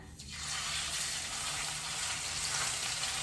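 Chicken drops into hot olive oil and a loud, steady sizzle rises at once and keeps hissing evenly.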